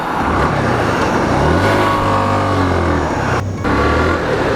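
A 2019 Yamaha FZ V3 FI ABS 150cc motorcycle accelerates on the road. Its engine note rises loud and steady, with the pitch climbing through the gears under strong wind rush.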